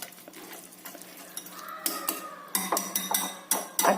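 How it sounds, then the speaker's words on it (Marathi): A spoon whisks curd in a bowl, giving a series of sharp clinks and scraping strokes that grow louder and more frequent toward the end, with no talking. "दही छानसं घोटून घ्यायचं."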